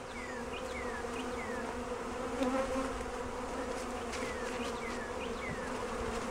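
Honeybees buzz around a newly installed package hive fitted with an entrance reducer, a dense continuous hum close by, with individual bees flitting past.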